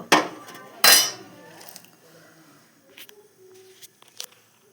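A freshly washed cooking pot is set down on a fire-lit stove while making pethe ki sabzi, giving two sharp metallic clanks close by, followed by softer scattered knocks and rattles.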